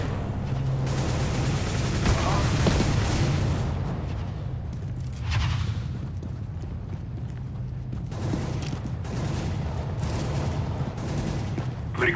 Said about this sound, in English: Very good shooting.